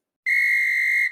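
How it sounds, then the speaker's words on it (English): A single sharp, steady whistle blast, loud and clear, holding for about a second before cutting off, with nothing else around it. "You heard the whistle, and you know what that means."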